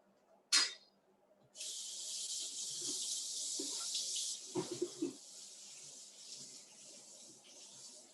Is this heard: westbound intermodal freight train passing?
no